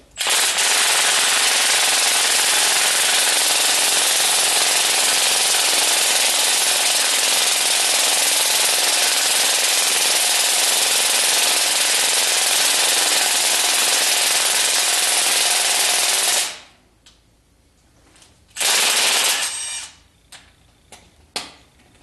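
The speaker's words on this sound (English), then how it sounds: "I have this impact wrench set on the lowest" Impact wrench on its lowest setting driving bolts while installing cylinder heads on a 1976 Corvette restomod, a loud continuous hammering rattle for about sixteen seconds, then short bursts after it stops.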